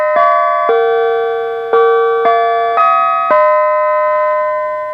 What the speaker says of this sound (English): that is a fairly classic sounding music and sound door chime